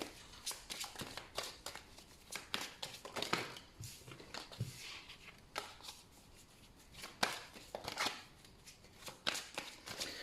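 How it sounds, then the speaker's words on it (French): A tarot deck being shuffled by hand, repeated quick riffles and soft slaps of cards in uneven bursts, close but quiet, with no talking. "je vais d'abord bien mélanger le jeu"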